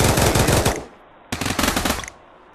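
An Uzi submachine gun fires in the VR shooter Pavlov: two loud, close bursts of rapid automatic gunfire, each under a second long, separated by a brief pause.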